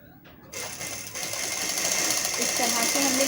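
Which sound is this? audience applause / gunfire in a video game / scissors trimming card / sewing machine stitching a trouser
sewing machine stitching a trouser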